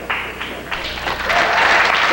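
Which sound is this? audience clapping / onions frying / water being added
audience clapping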